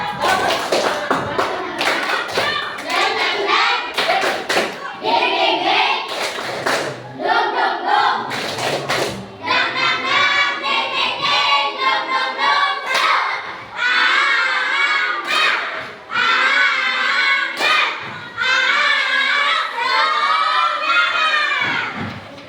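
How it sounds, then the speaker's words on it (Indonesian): A classroom of children performs a rhythmic spirit clap, with loud patterned bursts of clapping mixed with shouted chanting and cheering, repeating over and over. "tepuk semangat."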